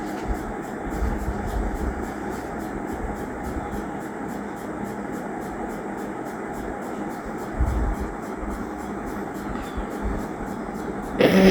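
A sewing machine stitches the band collar of a panjabi, giving a continuous rapid mechanical rhythm with a low motor hum, steady throughout and ending in a louder clatter.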